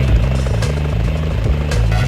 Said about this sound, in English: police choppers